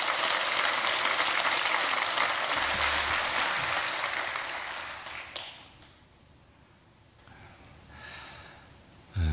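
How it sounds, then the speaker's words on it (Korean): Loud applause from a large church congregation at a Sunday service fills the first half, then fades away to near silence with scattered faint claps. "큰 박수로 환영하겠습니다"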